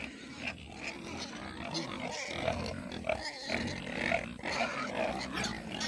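Pigs at a county fair swine show in Lamar, Missouri grunt and squeal continuously at close range, with rough, overlapping snorts and growly calls and no pauses.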